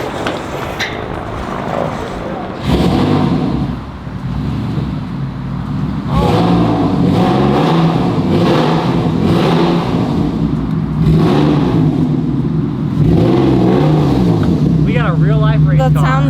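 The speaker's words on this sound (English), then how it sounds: "That sounds like a real race car." Porsche 986/987 Cup race car engine revving loudly and continuously at close range, holding a steady roar with rises in pitch, while people talk over it.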